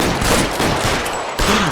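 Rapid gunfire in the detective video game L.A. Noire, a loud, dense volley of shots crackling continuously for under two seconds with no pause.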